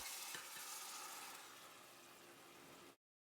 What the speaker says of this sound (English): Add the crushed tomatoes.